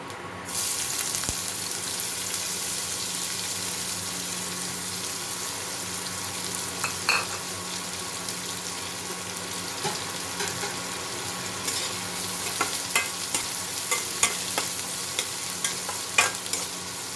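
Chopped onions with black cumin seeds frying in a pan for a poppy-seed egg curry, a steady soft sizzle with occasional stirring clinks, close and alone without talk.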